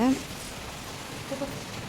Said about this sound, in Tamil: சரியான மழை